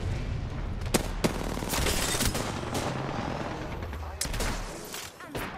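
Gunfire rattles through a battle in the video game Apex Legends, with steady bursts of shots and sharp louder cracks over a dense, continuous mix of in-game noise, with a voice faintly in the background.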